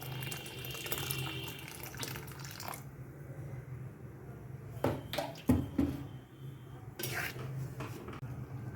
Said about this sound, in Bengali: আরও একটু জল লাগবে।